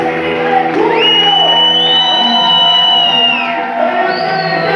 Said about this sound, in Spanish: a ese chiflido, a ese grito de júbilo